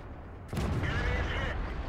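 A tank cannon in World of Tanks fires a single sudden loud blast that rolls into a sustained rumbling boom.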